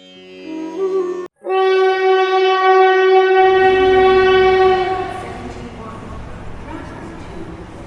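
A loud train horn blares with a rich chord of tones for several seconds, then fades as rumbling rail noise continues beneath.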